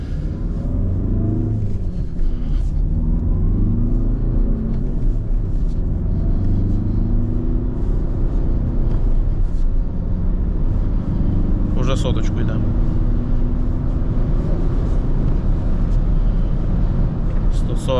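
A Volkswagen Passat B8 family car drives fast on the road at close to 200 km/h. A steady low engine and road rumble with wind noise runs throughout, while someone talks over it.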